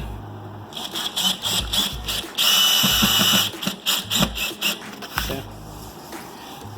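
Power drill driving screws into an IKEA Sektion base cabinet during assembly, close and loud in repeated short bursts with a longer sustained run midway, brief pauses between pulls of the trigger.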